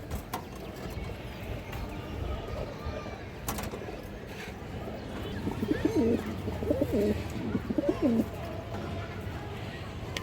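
Indian high flyer Kaldom pigeons, a large pair, give soft repeated throaty coos close by, rising in the latter half over a low background hum, with no talk during the calls.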